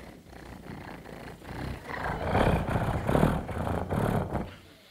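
A voice imitates a cat's purr, a low rumbling hum that swells and fades in rhythmic pulses for several seconds.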